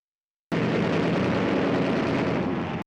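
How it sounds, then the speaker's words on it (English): Bomb hits from an airstrike land on warships, a battleship and heavy cruisers, in a naval strategy game, a loud continuous roar of explosions that starts abruptly and rumbles on for over two seconds. "the battleship, badly so, receiving multiple bomb hits"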